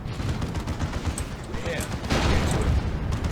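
Leman Russ battle cannon from Warhammer 40,000 firing in a video game, a heavy blast swelling into a loud, sustained rumbling boom over continuous battle noise.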